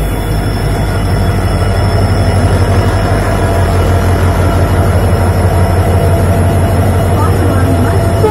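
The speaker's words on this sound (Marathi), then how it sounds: "आणि गाईज, ती बघा ट्रेन आली" The old Jan Shatabdi Express, hauled by a WDP4D diesel locomotive on the Konkan route, pulls into a station platform with a loud, unbroken low rumble and steady wheel noise close by.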